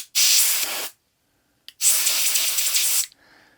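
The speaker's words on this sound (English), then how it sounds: "So I'm just going to spray it. This is just compressed air." Compressed air is sprayed into a phone's charging port to clear out lint, giving two loud, close hissing blasts of about a second each, separated by a short silence.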